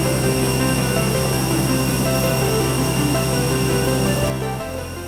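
Steady loud cabin roar of an Aegean Airlines Airbus A320-200 in flight between Santorini and Athens, a constant broadband rush with engine hum, easing slightly near the end.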